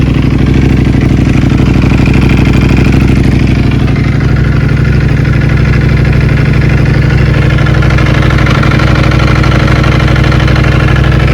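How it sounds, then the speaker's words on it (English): A BMW S1000RR or Ducati Panigale V4R superbike engine idles loudly and steadily up close, its deep rumble carrying a persistent mechanical clicking and clattering from the clutch throughout. "it has reached the optimum temperature and the clutch is released. You can still hear the clickety-clackety sound."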